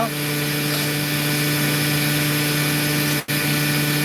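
A lapidary saw cuts into an opal with a cracked, weak section, a loud steady whining drone with a strong low hum that holds without a break, dropping out for an instant near the end.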